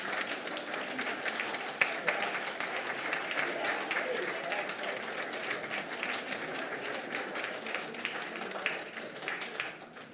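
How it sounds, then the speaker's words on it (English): A church congregation at a Scout Sunday service applauds the Scouts standing to be recognized, with steady, dense clapping from many hands filling the room throughout, with no break. "Let's give them a round of applause."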